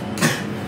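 A single short, close cough, loud and brief, during an indoor live-selling session.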